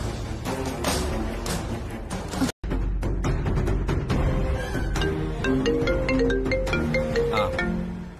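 A mobile phone ringtone plays for an incoming call in an office setting, a steady melodic electronic tune running loud and continuous over background music, broken by one brief dropout.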